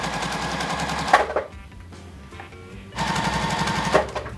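A sewing machine stitches batik quilt scraps together in two fast, rattling bursts separated by a short quiet pause with small handling sounds, the motor close and fairly loud.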